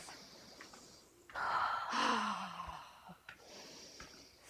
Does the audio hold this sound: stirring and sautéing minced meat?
no